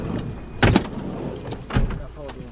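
The door of a broken-down Land Rover in Africa is tried: two distinct mechanical clunks of the handle and latch about a second apart, close to the microphone, with faint background rumble.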